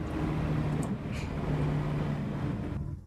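A car engine in the video game Assetto Corsa EVO, a steady mid-pitched drone with a slightly echoing, boomy rumble, fairly loud and continuous before cutting off near the end.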